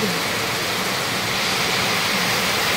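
Dense, steady roar of heavy rainfall during a flood, loud and continuous throughout with no talking.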